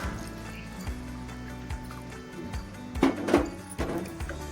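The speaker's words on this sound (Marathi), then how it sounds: "आणखी थोडं पाणी घालणार." Water is poured into a pot of simmering amti, a Maharashtrian dal, on a gas stove, giving a quiet liquid splash and trickle with a few clinks and a brief louder burst near the end.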